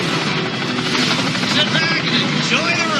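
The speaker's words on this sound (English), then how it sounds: "It is a helicopter that he catches" A helicopter thrums loudly and steadily with dense, continuous rotor noise, and a voice may sit beneath it.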